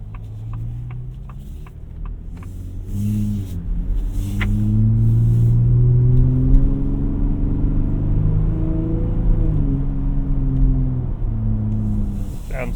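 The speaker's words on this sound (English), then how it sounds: "Listen to the blinker." Turn signal ticking inside a 2025 Ford F150 Raptor, a faint regular series of clicks heard early on, then blended with engine rumble and road hum while driving, with no talking.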